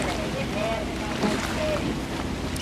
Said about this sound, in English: Wonderful just hearing these blades cutting through the water